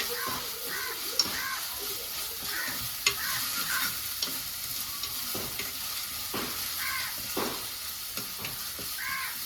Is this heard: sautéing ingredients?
yes